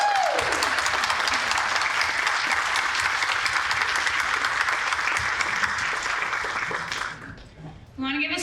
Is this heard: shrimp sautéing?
no